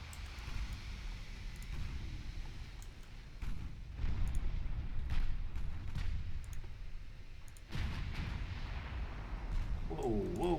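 Naval gunfire from warships in the Ultimate Admiral Dreadnoughts game: repeated heavy booming salvos over a constant rumbling background, with sharp cracks arriving at irregular intervals.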